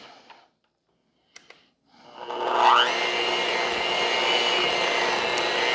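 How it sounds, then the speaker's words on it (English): Electric mixer whirs into steady operation, blending vanilla extract into no-bake peanut butter pie filling, starting after a quiet pause and running loud and continuous to the end. "I'm going to give it a little whir."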